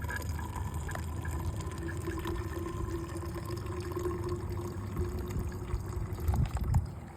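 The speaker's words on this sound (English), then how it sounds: "When the filter is new, it'll come out, it'll flow really nice and with a lot of pressure." Water squeezed from a bottle through a new filter, a continuous soft trickling stream with faint splashing, quiet and steady with a brief louder burst near the end.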